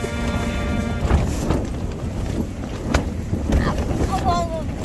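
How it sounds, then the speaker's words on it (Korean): Strong wind buffets the microphone on Biyangdo island during a backpacking camp, a steady roaring rush with gusty swells, while people talk nearby. "바람 소리 어쩔"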